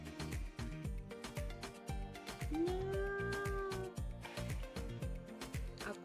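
A voice imitates a kitten meowing, a single drawn-out mew rising and falling over a steady rhythmic backing track, moderately loud and close.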